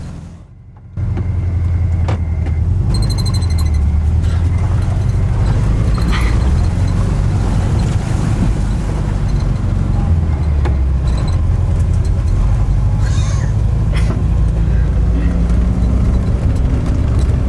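A converted school bus drives along a rough canyon road, its engine a steady low rumble with constant road and body noise after a brief quieter opening, some faint rattles and clunks over the bumps.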